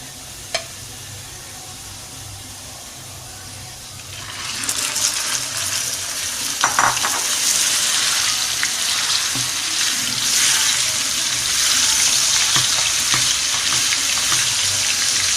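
Minced meat goes into golden-brown fried onions for kachri keema, and a quiet pan hiss jumps after a few seconds into a loud, steady sizzle with occasional clinks, continuing strongly to the end.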